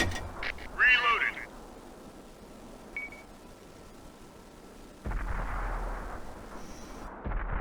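A World of Tanks artillery gun fires in a loud, booming burst near the start. Game beeps and a second rumbling blast follow later over a low ambient bed, with faint talk in the background.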